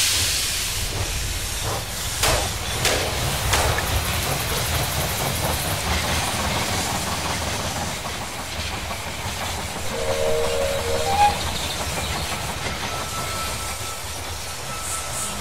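Steam train pulling into a station in the strategy game They Are Billions, a steady hiss of steam over rolling rail clatter that fills the whole stretch at even loudness.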